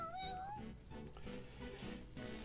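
A cat meows in a video game, one drawn-out rising cry at the start, followed by faint ambient game noise beneath soft talk.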